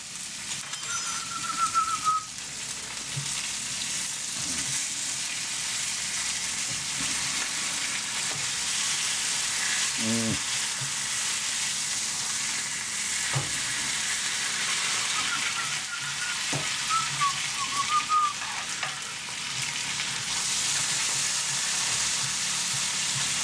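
Steak sizzling in a pan with knobs of butter, thyme and garlic, a continuous loud crackling fry with occasional spatters and light utensil knocks, no talking.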